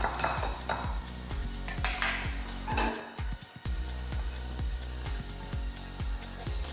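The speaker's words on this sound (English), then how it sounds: "Give that a quick stir together." A utensil taps and scrapes in a rapid, regular rhythm against a bowl while an omelette egg mixture with onion and garlic is stirred, close and fairly quiet, with no talking.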